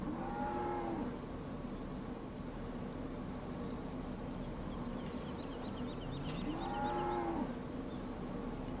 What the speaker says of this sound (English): These are just animated cows here living in the barn.